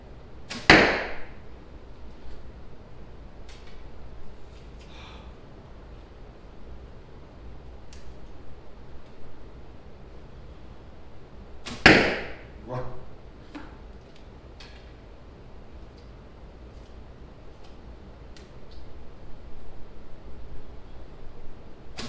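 Two wooden arrows strike separately, each a sharp loud thwack, the first near the start and the second about halfway through, knocking a bottle about with brief rattles after the second impact, over quiet outdoor background.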